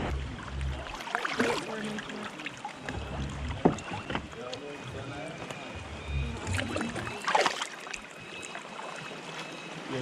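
Kayak paddles dip and splash on the water at high tide at Hopewell Rocks on a guided tour, with intermittent strokes under gusting wind noise.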